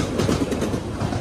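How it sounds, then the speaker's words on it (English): A train rolls past nearby with a loud, steady rumble and rhythmic clatter of wheels on rails, with no talking. "But here's another train."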